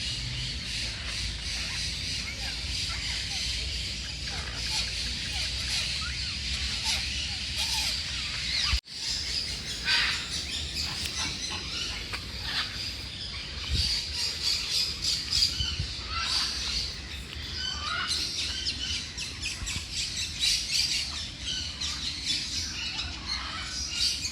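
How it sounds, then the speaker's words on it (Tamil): Yellow parrots squawking while feeding on papaya at a bird sanctuary in Hambantota, Sri Lanka, with dense, continuous harsh calls from a large flock close by and no talk. "இங்கே அழகான மஞ்சள் பேரட். அழகாக பழம் சாப்பிட்டுட்டு இருக்கிறாங்க, பப்பாசி பழம்."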